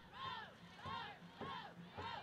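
Crowd noise at a college baseball regional game between Georgia College and Catawba in Dahlonega, with four swelling bursts of cheering and shouting from the stands, steady and fairly distant.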